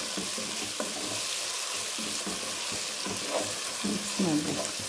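Tomatoes and onions stirred and fried in a pan for chicken masala, with steady sizzling under scattered scraping stir strokes that come close and fairly loud over about five seconds.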